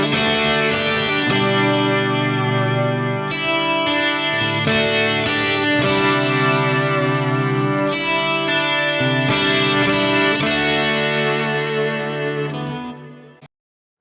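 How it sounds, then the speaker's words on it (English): Clean electric guitar played through a ToneX ONE pedal preset, ringing chords and sustained notes with chorus-like shimmer, steady and loud throughout, fading out at the end with no talk. "Switch to the next sound, we have a clean sound."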